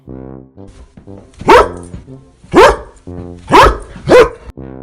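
A dog barks four times at a steady pace, loud and close, with a low voiced drone or hum running between the barks.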